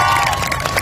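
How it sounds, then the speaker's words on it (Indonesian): Stand-up comedy audience noise, a brief dense burst of crowd cheering and clapping with a faint tone underneath, loud and unbroken for under a second. "boleh minta tepuk tangannya"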